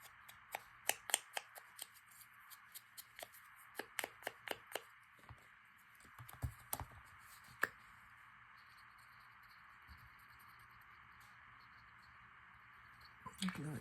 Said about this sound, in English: I think I'll just cut one of those off.